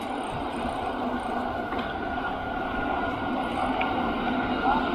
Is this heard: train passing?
yes